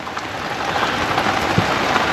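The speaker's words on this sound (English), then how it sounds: "been raining all day." Steady rain falls at a caravan park in Broome, a continuous close hiss of drops pattering on surfaces with no voices.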